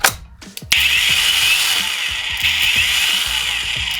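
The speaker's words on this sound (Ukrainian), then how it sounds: "Як бачите, болгарка має плавний запуск і працює по степені нажиття кнопки." A cordless Stromo angle grinder with soft start switches on and runs with a loud, steady high-pitched whine close up.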